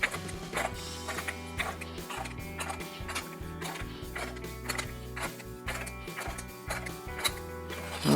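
Deep throat metal shrinker working sheet metal, a rhythmic series of clanking mechanical strokes with a low thudding beat, steady and close.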